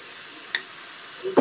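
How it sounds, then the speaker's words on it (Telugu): A puri frying in hot oil gives a steady soft sizzling hiss, with a brief tick near the middle and a short bubbling burst at the end. "ఆయిల్ వేడెక్కాక ఇలా పూరి వేసుకోవాలి."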